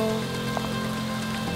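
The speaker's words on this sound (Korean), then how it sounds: "아, 비가 오네. 네, 비가 많이" Steady rain falls outdoors as an even, continuous hiss, moderately loud and close, with a faint low hum running underneath and no talking.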